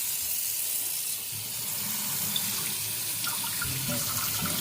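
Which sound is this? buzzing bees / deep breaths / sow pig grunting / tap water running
tap water running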